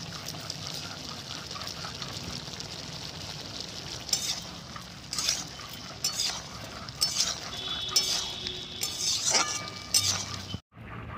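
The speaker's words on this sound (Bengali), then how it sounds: "আমি এবার ঢাকনাটা খুলে দেবো।" Metal lid lifted off a cooking pot of young ash gourd curry, a few clinks and scrapes over a low sizzle, ending in a sharp clatter followed by a brief near-silence.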